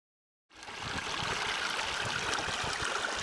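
Hollands Creek stream flowing over a natural rock formation, a steady broadband rush of moving water that fades in after a moment of silence and then continues evenly and fairly close.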